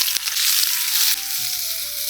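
Whole spices, dried red chillies, bay leaf and onion sizzle loudly in hot oil for a village-style rohu fish curry, a close, bright crackle that softens slightly as the onion goes in.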